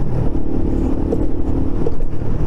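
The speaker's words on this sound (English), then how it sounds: "Oops, missed gear, false neutral." A motorcycle engine revs loudly and close after a missed gear drops it into false neutral, a continuous rough roar with no spoken words.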